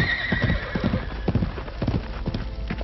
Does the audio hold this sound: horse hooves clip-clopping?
yes